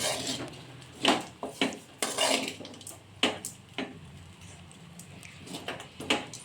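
A spoon scrapes and clanks against a pan while lemon juice is stirred into idli upma, producing irregular close metallic knocks and scrapes spaced a second or so apart, with no voices.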